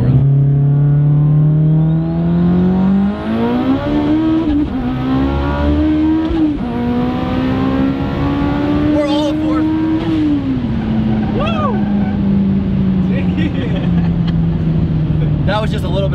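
A 900+ hp Mitsubishi EVO 9 running 55 psi of boost pulls hard through second, third and fourth gear, its loud engine note climbing and dropping at each shift up close, with excited voices talking over it.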